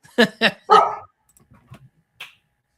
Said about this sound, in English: He's a very vocal dog.